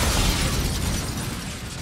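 Rocket strike in a Call of Duty–style shooter erupts into a loud, broad rumbling explosion that fills the short moment and slowly fades, with no talk over it.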